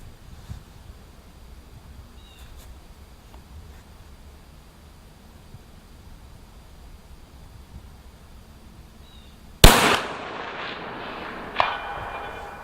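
A Cadex CDX-30 Guardian rifle chambered in .308 Win fires a single sharp, loud outdoor shot after a windy lull, followed by a trailing echo and a fainter distant impact or report.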